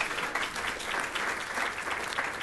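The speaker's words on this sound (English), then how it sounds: "please give Mark a big round of applause" Audience at a media panel giving a big round of applause, a steady, fairly distant wash of many hands clapping without pause.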